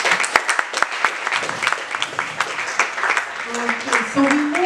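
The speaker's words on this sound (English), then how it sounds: "A round of applause" Audience at a talk event applauds, with sharp individual claps scattered through a room-filling patter, and a voice speaking toward the end.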